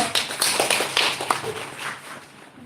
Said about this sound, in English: let's give a round of applause for Tatiana Sokolova